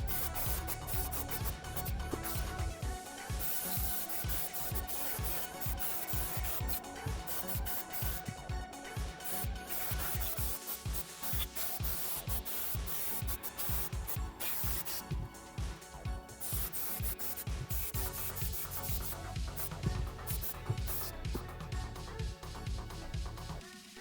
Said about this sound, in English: I'm not gonna spray this one on the bottom part of the base,